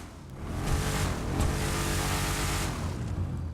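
A Declasse Vamos muscle car in Grand Theft Auto 5 holds a loud, continuous engine roar for the whole stretch. The tone is steady and buzzy with little change in pitch, and no voices are heard over it.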